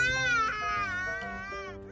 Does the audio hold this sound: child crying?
yes